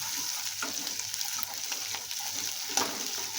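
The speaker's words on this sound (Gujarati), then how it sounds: "હવે જાજી વાર નથી સાતળવાનું, ખાલી એનો કાચો ટેસ્ટ વયો જાય ત્યાં સુધી જ સાતળવાનું છે." A spice mix sautéing in a pan on a medium flame for drumstick kadhi, a soft, steady sizzle with occasional scrapes and clinks of stirring.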